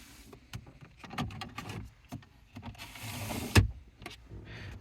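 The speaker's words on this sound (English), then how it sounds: "Pulling back these shutters here, we find storage cup holders and a little change box." Plastic shutters on the centre console of a 2015 Volvo XC90 D5 Momentum slide back, giving a series of soft clicks and rattling slides close by in a quiet car cabin, with one sharper knock near the end.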